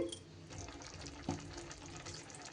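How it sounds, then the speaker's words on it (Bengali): Water pours into a chapila fish curry with winter vegetables, making a soft, quiet gurgling splash over a faint background simmer, with one brief clunk partway through and no voices. "আর একটু জল অ্যাড করে দিলাম।"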